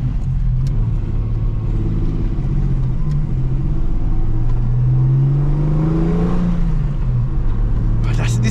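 A 1970s Ford Capri 2600 RS pulls away and cruises on the road, its engine droning and rising in pitch as it accelerates, loud and steady throughout with a rumbling tone.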